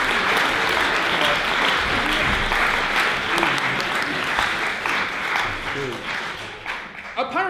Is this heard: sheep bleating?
no